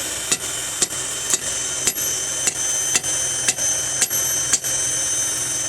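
A hammer strikes hot steel while forging a meat cleaver, about ten evenly spaced sharp ringing blows over a steady background hum from a forge or blower.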